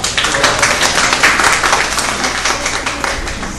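An audience at a peace lecture series applauds together, a dense, even round of clapping that holds steady and then tapers slightly toward the end.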